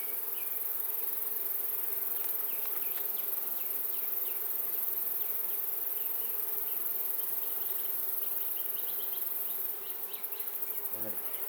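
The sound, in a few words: honey bees buzzing in an open beehive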